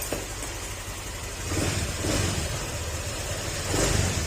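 A car engine running as it warms up, a close, steady rumble with a few gentle swells in revs, no voices.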